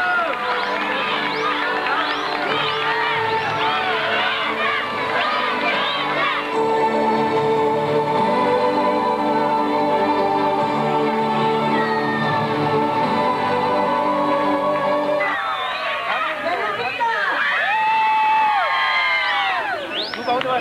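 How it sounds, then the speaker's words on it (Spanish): Crowd at a town festival in Huisquilco, Jalisco, cheering and applauding loudly throughout, with whoops and shouts rising toward the end over a steady band of music-like tones. "Démosle un fuerte aplauso para despedirlas."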